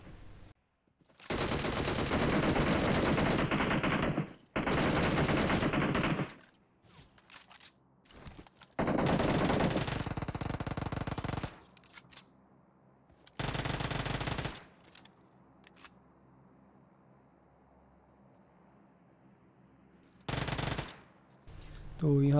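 Video game gunfire in a PUBG Mobile squad fight, with several sustained bursts of automatic fire separated by quieter gaps holding faint footsteps and small clicks.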